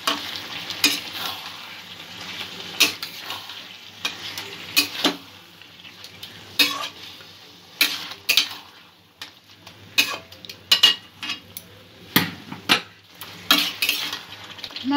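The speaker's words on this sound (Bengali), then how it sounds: "মশলা দিয়ে মাংসটা এবার কষিয়ে নেব" Chicken pieces being stir-fried with spices in a kadai, sharp irregular clanks and scrapes of a metal spatula against the pan over a light sizzle, close up with no voices.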